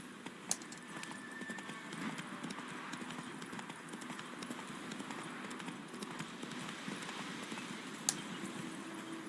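Roach the horse gallops in Witcher 3, a rapid, steady clip-clop of hooves running continuously at moderate level over a soft ambient game backdrop.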